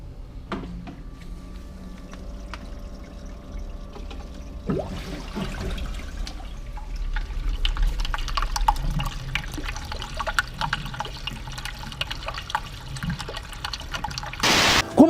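Water spills down a full-width glass panel into the overflow box of a marine aquarium, a steady trickling and pouring that swells midway and carries on alone to the end.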